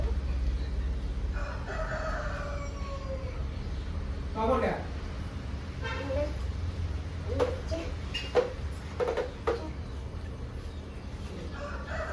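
Chickens cluck and a rooster crows in bursts, fairly near, with people talking over a steady background hum.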